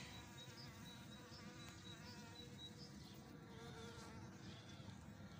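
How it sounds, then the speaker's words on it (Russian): A bee buzzes outdoors in a shaded southern garden bed in the morning, a soft, continuous drone that hovers nearby and drifts slightly in pitch. "Уже пчелка проснулась первая."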